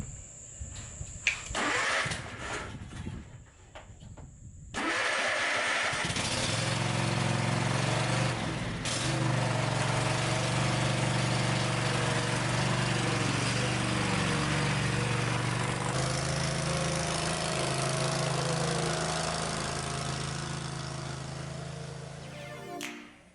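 A Cub Cadet riding lawn mower with a repaired muffler has its engine cranked over several seconds in. It catches, then runs at a steady, loud, close drone for the rest of the stretch.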